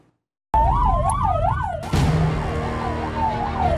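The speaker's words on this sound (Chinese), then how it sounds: "救护车赶着出任务，" An ambulance siren in South Africa wails loudly and close by, starting abruptly after a brief silence, then cycling through rapid rising and falling pitch sweeps that shift into a slower wail.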